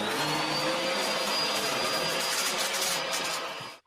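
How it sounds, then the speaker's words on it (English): A vacuum cleaner sucks up glitter with a loud, steady whine and roar that runs without a break and cuts off abruptly at the end. "I gotta vacuum up this glitter mess real quick."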